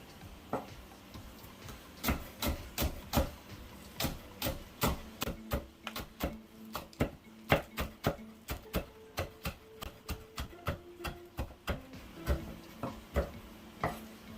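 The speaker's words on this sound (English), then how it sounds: "Then I'm going to cut up my green onions." A knife chopping green onions on a cutting board: a long run of crisp, evenly spaced knocks, close and clear, speeding into quicker bursts at times.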